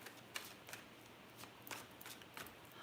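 Tarot cards are shuffled by hand in a series of quiet, crisp riffling bursts at irregular intervals, close but faint, with no talking.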